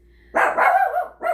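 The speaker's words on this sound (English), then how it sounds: "Sorry, that's my dog." A pet dog barks indoors: one loud, drawn-out bark close by, then a second bark starting just after it, with no talking.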